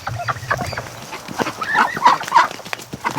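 A flock of Pekin ducks inside a barn quacking excitedly, with overlapping honking calls rising and falling at moderate distance and a muffled, enclosed tone.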